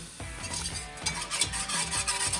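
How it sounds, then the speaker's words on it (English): Melted butter and a quarter cup of flour are whisked together in a pan for smoked mac and cheese, a steady, close, busy scraping and stirring with faint clinks throughout. "And then I want you to grab a quarter cup of flour and just start mixing around."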